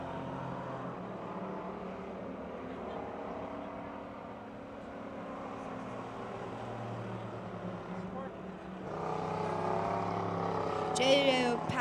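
Race cars circling the Pennsylvania Motor Speedway track near Pittsburgh, a steady droning engine roar that swells louder near the end, with voices talking over it.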